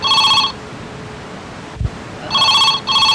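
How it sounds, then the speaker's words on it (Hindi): A telephone rings loudly in a photo studio, two bursts of bright electronic trilling separated by a pause of near silence broken by a single low thump. "किसी ग्राहक का फोन भी आ गया।"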